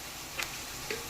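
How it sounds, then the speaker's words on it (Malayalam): Onions sauté in a pan for egg curry with a steady, gentle sizzle and two faint ticks of stirring. "നമ്മളെ സവാള വഴണ്ട് വന്നിട്ടുണ്ട്"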